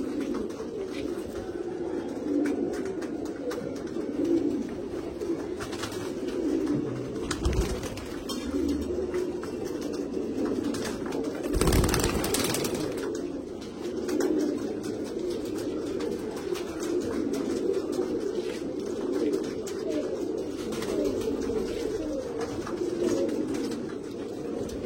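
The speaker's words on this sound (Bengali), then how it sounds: "আরও অনেক পায়রা আছে" Pigeons coo softly in a loft, low murmuring calls overlapping in a steady backdrop, with a brief louder thump partway through.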